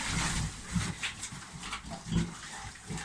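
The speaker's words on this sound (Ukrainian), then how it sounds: "Так, маємо свинку" A pig on a Ukrainian farm during artificial insemination work grunts softly in short low bursts, fairly faint against a noisy barn background.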